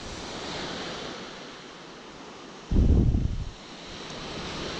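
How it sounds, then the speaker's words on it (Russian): Gentle surf in Zheleznaya Bay, a soft continuous wash of water mixed with wind noise, swelling briefly into one louder, deeper surge before settling back to a steady hiss. "Сегодня слабый прибой."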